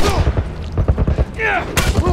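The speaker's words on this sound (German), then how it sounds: "Immer zwei Schüsse und dann einmal." Gunfire in The Last of Us: a few sharp shots, apparently in a pair and then a single, closely mixed with excited talking and game sounds throughout.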